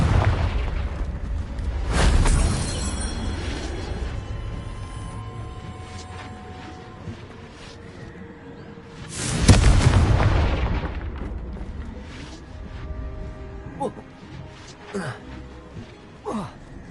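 Two loud spell blasts from a Harry Potter–themed Hogwarts video game, the Confringo fire curse exploding with deep booms roughly seven seconds apart, each decaying into rumbling crackle, with smaller impacts and spell sounds scattered between.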